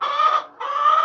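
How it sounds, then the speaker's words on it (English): Chickens in a coop at snack time give loud, close clucking and squawking, two sustained bursts with a short gap between them and no talking. "these chickens are screaming."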